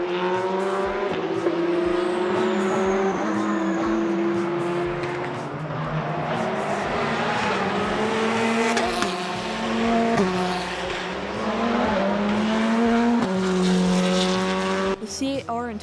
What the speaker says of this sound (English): listen to that CAR flat plane crank